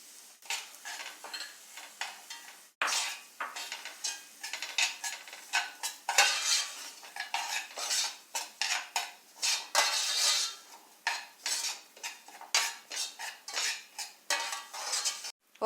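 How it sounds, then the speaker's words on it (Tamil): Semolina (rava) roasting in ghee for almond (badam) kesari, stirred steadily with a metal spoon against the pan, giving close, repeated scraping and clinking strokes over a soft dry sizzle, with no talking. "இதே நெய்யில் ரவையை வறுத்தரலாம்."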